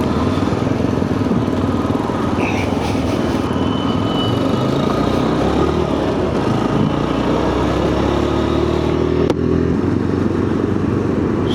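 A Jawa motorcycle on a group Republic Day ride near Shivagange Betta, Bangalore, with its engine droning loud and steady from close by as it cruises along the road, and the pitch rising slightly as it speeds up.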